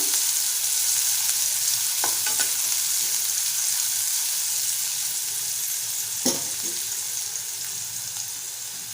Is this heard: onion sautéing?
yes